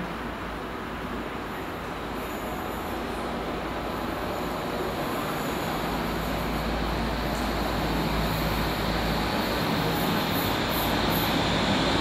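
A steady, loud rumble of steam locomotive 70013 Oliver Cromwell's train at Bath Spa station fills the whole stretch, with constant low mechanical noise and no speech.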